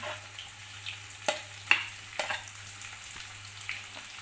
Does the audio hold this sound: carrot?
yes